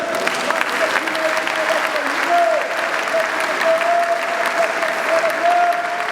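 A church congregation claps steadily and loudly throughout, a dense continuous applause with a faint sustained musical tone underneath.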